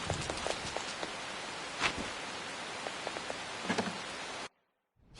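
Heavy rain in the video game Persona 5, a dense, steady hiss of rain on surfaces with a couple of louder splashing bursts, cutting off abruptly into near silence before a faint return at the end.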